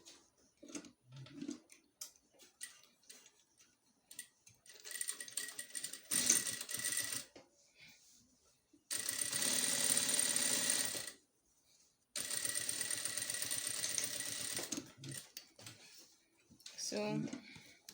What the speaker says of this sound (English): And then I'll start sewing.